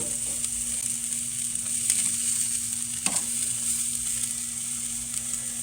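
Meat grilling over a charcoal barbecue gives a steady, close sizzle with a constant hiss, a few faint clicks of handling and no voices.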